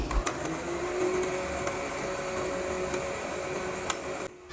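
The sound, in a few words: blender blending tamarind mixture in a jug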